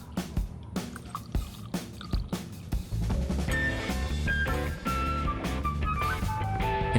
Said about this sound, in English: Pour in a moderate amount of filtered water,